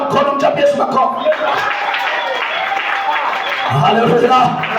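Church congregation clapping along during an energetic Swahili sermon, a dense, steady patter of many hands close by, with a preacher's voice and singing-like shouts mixed over it throughout.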